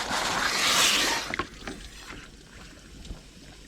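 Water rushes into the radiator of a Jeep XJ as its engine runs, a loud pour lasting about a second before fading to a quiet hiss with a few soft knocks.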